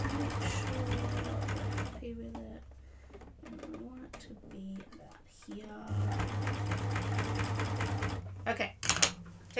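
Baby Lock cover stitch machine sewing binding in two loud, close bursts of rapid whirring stitching, separated by a quieter stretch of handling clicks and fabric rustle, with a few knocks at the end.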